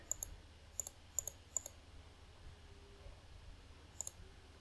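A computer mouse clicks while SQL Server Management Studio is in use, giving crisp, faint single and double clicks in small bursts, separated by quiet stretches over a low room hum.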